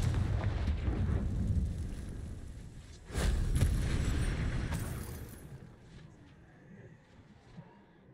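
A Confringo blasting spell in Hogwarts Legacy sets off a booming explosive burst about midway, following a rumbling, roaring stretch, and the blast fades into quieter ambience.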